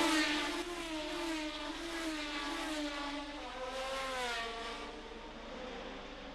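Formula 1 Grand Prix cars race at the Nürburgring in 1972, their high engine whine rising and falling in long sweeping pitch bends as they pass at speed, loud and continuous.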